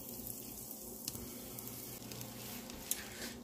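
Butter sizzling as it melts in a hot pan, a soft, steady frying hiss that stays quiet and close, with a faint click near the end.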